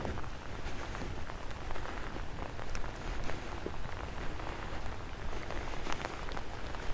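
Steady rain falls on a suburban street in Los Angeles on a wet, windy day, a dense, constant hiss and patter close around with no voices.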